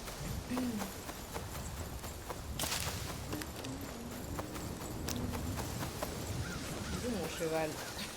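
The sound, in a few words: horse hooves in video game Assassin's Creed Shadows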